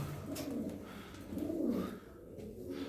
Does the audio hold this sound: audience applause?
no